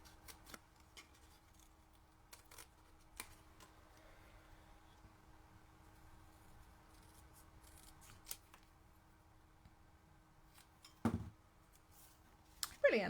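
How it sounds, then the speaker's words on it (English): Paper being trimmed into a small banner around a stamped sentiment with scissors during a card-making session. Faint, sparse snips come at intervals over a quiet background, then a few louder cuts arrive near the end. "then we'll just trim around this into a little banner"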